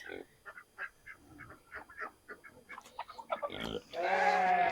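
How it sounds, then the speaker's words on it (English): Several short nasal quacks and honks from nearby ducks, scattered in an irregular series, ending in a louder, sustained raspy call. "A couple of my ducks."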